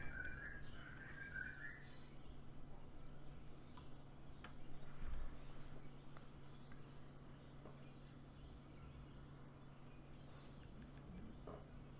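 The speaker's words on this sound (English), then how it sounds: "And here come the birds." Birds chirping in a grand strategy video game, a faint scatter of high tweets over a steady insect-like ambient hum that runs the whole time.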